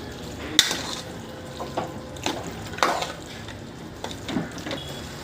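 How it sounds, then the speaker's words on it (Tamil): Water poured into a pan of Chettinad mutton kulambu masala gives a soft, intermittent splashing and sizzle, with a few sharper clinks and stirring sounds spread across several seconds. No one speaks. "தேவையான அளவு தண்ணி ஊற்றிக்கோங்க."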